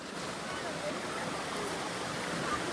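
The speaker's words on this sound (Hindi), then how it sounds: "पानी का रो हो रखा है।" Water rushes steadily down a mountain stream in a hilly outdoor setting, a constant broadband hiss and gurgle, fairly close and unbroken.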